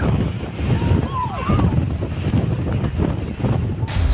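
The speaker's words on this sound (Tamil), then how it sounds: "கடல் சீற்றத்தினால் 10 அடி உயரம் வரை மேலெழும்பும் அலைகள் தடுப்புச் சுவரை தாண்டி விழுகிறது" Rough sea waves whipped up by strong wind crash over a coastal seawall at Kasimedu, Chennai, a loud continuous roar of surf with heavy wind buffeting the microphone throughout.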